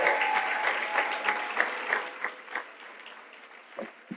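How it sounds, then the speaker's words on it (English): An audience applauds the First Lady at an evening event in St. Louis, a dense burst of clapping that gradually thins into scattered individual claps toward the end. "Give her another round of applause."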